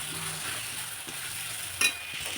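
A spoon scrapes and stirs chole curry with turmeric in a pan over a steady frying sizzle, with one sharper clink partway through.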